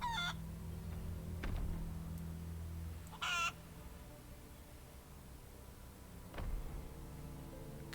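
A chicken in the video game World of Warcraft clucks in a few short, separate bursts over a quiet in-game background hum.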